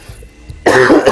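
A single loud, close cough bursts out after a short quiet stretch, harsh and throaty with a brief second push at the end.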